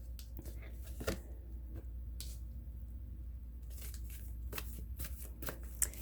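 Playing cards shuffled by hand in a quiet room, a series of close crisp riffling and flicking bursts spread across the span over a low steady hum, with no talk.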